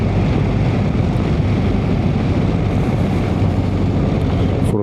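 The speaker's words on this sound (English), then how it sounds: "When the windshield is down, I have a lot of wind." Steady, loud wind roar buffets the microphone while riding a BMW R 1300 GS Adventure motorcycle with its windshield lowered, a continuous broadband rush with no gaps.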